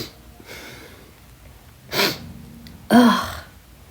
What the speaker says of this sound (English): It's morning, so sorry about the sniffles.